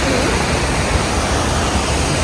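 The thundering roar of Iguazu Falls on the Argentina–Brazil border, a dense, loud, unbroken rush of falling water heard up close and filling the whole sound.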